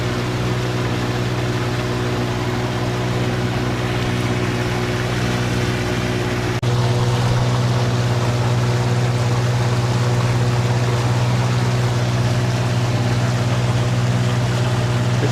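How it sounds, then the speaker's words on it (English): Water flows steadily like a small waterfall, a constant loud rushing wash with a low hum underneath that grows slightly fuller partway through, with no voices. "For some reason I found that water noise pretty relaxing. Kind of like a A little waterfall or a pond or something."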